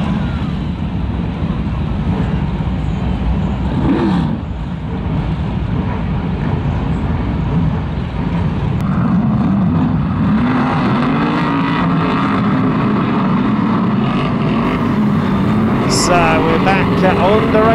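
BriSCA F1 stock cars race at Kings Lynn, their engines a loud, continuous roar that swells and shifts in pitch as cars pass, with a commentator talking over the noise throughout.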